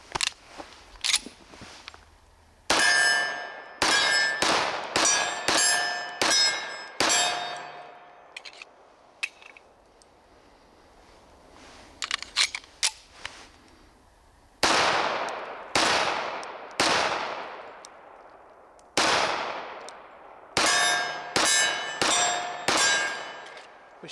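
A case-hardened Auto Ordnance 1911 pistol fired at steel targets, with sharp shots in quick strings, each followed by a bright ringing clang from the struck steel and short pauses between the groups.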